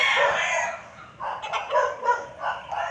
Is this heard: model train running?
no